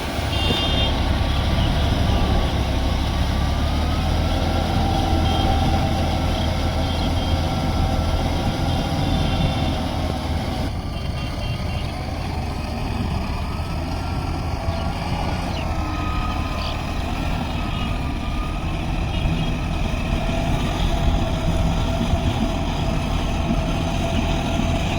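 A John Deere 5310 4WD GearPro 55 hp tractor drives steadily, with a continuous, even diesel drone and rumble heard up close for a long stretch.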